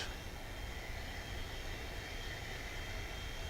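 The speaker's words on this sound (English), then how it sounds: "British Airways flight 192 still driving to the south of the airport" A British Airways airliner taxiing at DFW airport, heard as a steady, broad, distant jet rumble and hiss that holds at an even level throughout, with no voices.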